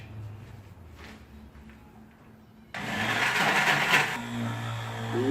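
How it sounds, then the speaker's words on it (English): A hand blender whirs into melted chocolate and cream to emulsify ganache, kicking on abruptly partway through and running loud and steady for over a second before easing back to a low motor hum. "we're going to get our handy dandy blender and we're going to emulsify this"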